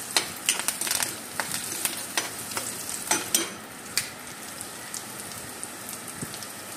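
Potatoes frying in a pan for aloo curry, a steady crackling sizzle with scattered sharp pops, fairly close and continuous with no voices.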